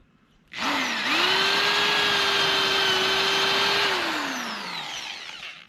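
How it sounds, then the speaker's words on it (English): A power drill countersinks a bolt hole in a wooden cabin floor, whining steadily for several seconds at close range before winding down, with no talking over it. "Stick that head in, make sure that it's countersunk a little bit. All right, now we'll countersink all the way."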